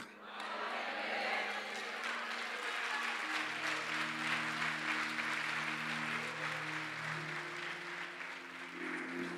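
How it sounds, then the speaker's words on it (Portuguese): Applause rolls through a church congregation, continuous clapping mixed with cheering voices and shouts, while a sustained organ or keyboard chord plays underneath. "Aplauda mais forte"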